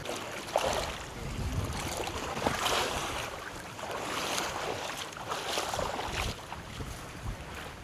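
Open water slaps and washes around someone drifting on an inflatable mattress, with gusty wind buffeting the microphone in steady surges and no voices.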